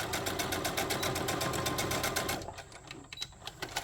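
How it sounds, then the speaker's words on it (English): Close-up sewing machine stitching a fabric bag near the edge runs in a fast, steady needle rhythm, then slows into a few separate stitches toward the end. "you do want to try to sew as close to the edge as you possibly can"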